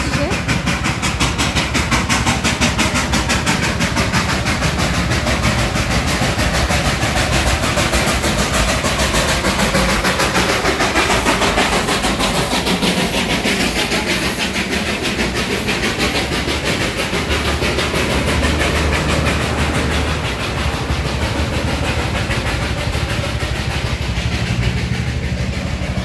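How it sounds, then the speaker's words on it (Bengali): The Darjeeling toy train passes close by on a hill road during a traffic jam, its engine and wagons making a loud, continuous rumble and clatter for the full duration, with voices mixed in. "তো তোমাদের দেখো টয় ট্রেন আসছে।"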